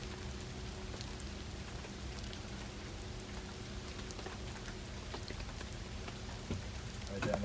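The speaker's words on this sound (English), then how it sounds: "It's raining" Rain falls outside a tractor repair shop, a faint, steady hiss of drops on surfaces under a low hum, with a few small knocks near the end.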